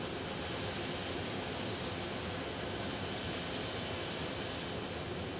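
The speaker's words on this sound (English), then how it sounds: "This is our Winnipeg WestJet arrival." A WestJet airliner arriving from Winnipeg, its jet engines giving a steady, loud broadband roar with a high whine on top, unbroken throughout.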